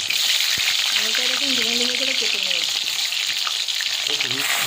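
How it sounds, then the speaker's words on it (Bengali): Potato pieces frying in mustard oil in a pan for a chicken curry give off a steady, close sizzle, while voices talk over it partway through. "আলু ভাজার জন্য আলু ভাজছি"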